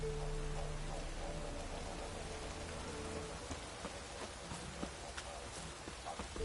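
Steady rain in The Witcher 3: Wild Hunt video game patters over a constant hiss with a low humming tone underneath, and scattered droplet taps stand out.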